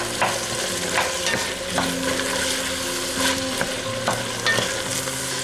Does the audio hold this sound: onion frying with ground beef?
yes